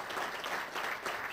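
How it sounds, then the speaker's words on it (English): An audience claps steadily for homeschooling parents at a state senator's address, producing a brief, even wash of applause heard on its own. "they deserve a big round of applause"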